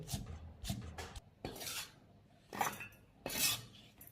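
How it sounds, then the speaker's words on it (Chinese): A kitchen knife chops bird's eye chilies into small pieces on a board, with a few crisp, close chopping strokes in uneven bursts and short pauses, no speech. "准备几个小米辣，顶刀切碎。"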